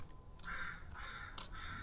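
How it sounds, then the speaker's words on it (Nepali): A crow caws outdoors in a quiet residential area, with about three short harsh calls at moderate distance over faint background ambience. "काग करायो"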